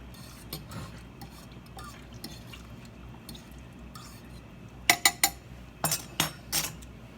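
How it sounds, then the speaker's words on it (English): A utensil stirs marinade in a crock pot, giving soft scraping under low room noise, then a run of sharp clinks and knocks against the pot near the end. "I'm gonna stir that up."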